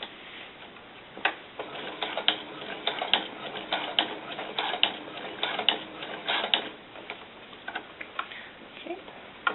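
Home sewing machine stitching fabric for doll snakeskin boots, a rapid run of small mechanical ticks and taps that stops and starts in short bursts, close and fairly quiet with no talk.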